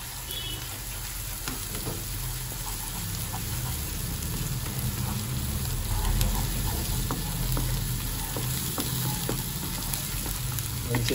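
Ginger garlic paste sizzles in hot oil while frying chicken with turmeric, a steady loud crackle filling the whole stretch with occasional stirring clinks and no talk.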